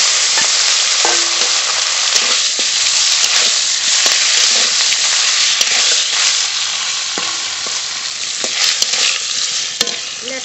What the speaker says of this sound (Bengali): কড়াইতে তেল গরম হয়ে গেছে, লবণ হলুদ মাখানো ল্যাঠা মাছ ভেজে নেব।